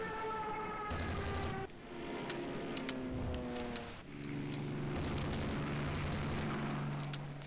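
Naval combat in the game Rule the Waves 2 as bombs strike a battlecruiser and a destroyer: a continuous loud rumble with layered wailing tones and deep booming swells throughout, no talk.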